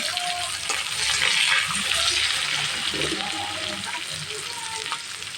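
Onion sizzles steadily in hot oil in a pan alongside peanuts fried golden for churumuri susla, a bright, continuous crackle with soft stirring underneath.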